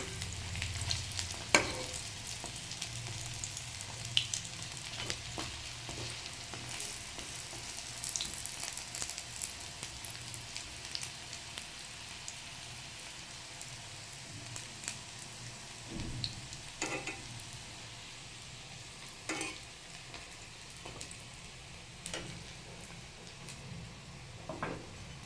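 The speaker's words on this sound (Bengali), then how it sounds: "এটা আস্তে আস্তে ভাজতে হবে, তাহলে সুন্দর হবে, ভিতরটা কাঁচা থাকবে না।" Mint leaf fritters (pudina pata bora) frying in a pan, giving a steady close sizzle throughout with occasional clinks and scrapes of utensils against the pan, with no voices.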